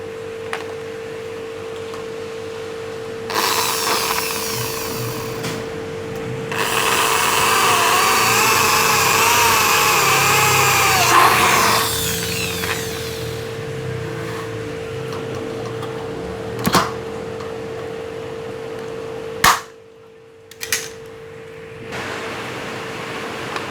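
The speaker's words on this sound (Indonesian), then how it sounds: "kita bor pada sisi bagian dalam" A power drill whines as it bores into an aluminium banner frame for several seconds, its pitch wavering under load, then stops; a steady hum runs underneath throughout.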